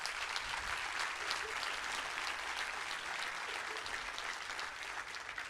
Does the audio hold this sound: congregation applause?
yes